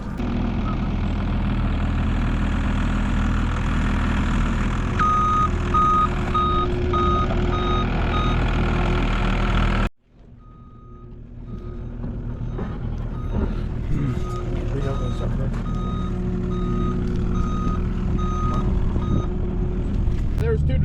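A delivery truck backs up at a farm, its reversing alarm beeping in a steady rhythm over a rumbling diesel engine, broken by a brief cut before the beeping resumes, with people talking.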